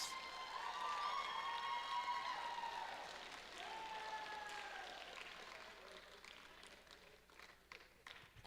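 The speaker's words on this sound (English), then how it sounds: "Let's give one last round of applause for your winning alliance." A crowd at a FIRST Tech Challenge league tournament awards ceremony applauds the winning alliance with sustained clapping and some cheering, loud at first and then gradually thinning out.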